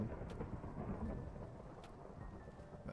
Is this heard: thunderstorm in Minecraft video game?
yes